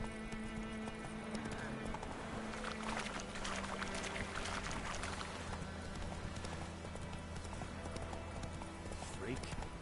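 Roach, Geralt's horse in the video game The Witcher 3, galloping with rapid, steady hoofbeats throughout, loud and near under a continuous bed of game sound, with people talking over it.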